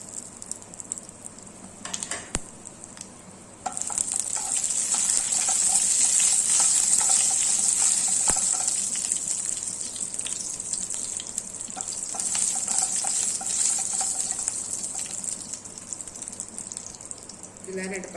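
Whole spices such as cinnamon and cloves sizzle and crackle steadily in hot oil, a loud close frying hiss that swells partway through and holds.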